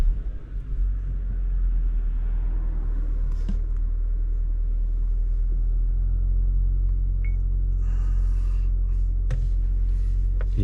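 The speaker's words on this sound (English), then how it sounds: "Let's start the car, let's see." A Cupra Formentor engine fires up with a short burst, then settles into a steady, close, low rumbling idle that runs evenly throughout, with faint clicks and no talking.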